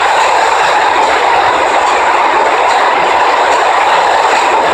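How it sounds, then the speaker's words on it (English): A train rushes past in the video game Dumb Ways to Die 2, a loud dense roar with a rapid rattling clatter that holds steady throughout, with no voices. "The train just went one round."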